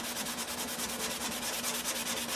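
Hand sanding strokes rub rhythmically across a Target EM6000 guitar body during finishing, a steady scratchy back-and-forth swish, close and fairly quiet, with no voices.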